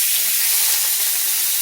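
Meat fries in its own fat in a pan for chili, giving a loud, steady broadband sizzle that stays constant from start to finish with no talking.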